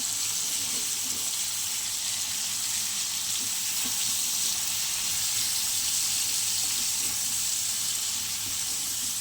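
Radhuni seeds tempering in hot oil for a rohu fish curry, a steady, close, hissing sizzle that runs on evenly without pause.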